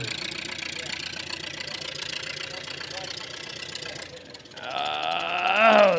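A tractor engine at a county fair barnyard tractor pull drones steadily, then dips briefly and rises again in a louder, climbing rev toward the end, heard some distance away amid crowd and announcer noise.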